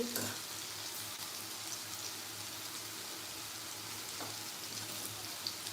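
Okra (bhindi) fries in a pan with a steady, close sizzle and crackle, a few stirring scrapes breaking through the constant hiss.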